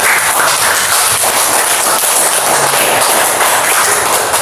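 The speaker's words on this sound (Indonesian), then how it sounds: "tepuk tangan untuk kita semua" Audience applause at a classroom teaching session, dense steady clapping from many hands filling the whole stretch, loud and close.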